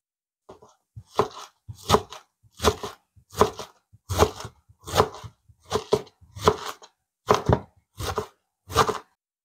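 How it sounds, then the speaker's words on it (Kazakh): Cabbage being finely shredded with a knife on a board for a pie filling: about a dozen crisp, evenly spaced chopping strikes, close and clear, with no talking. "Әдемілеп ұсақтап турап аламыз капустаны."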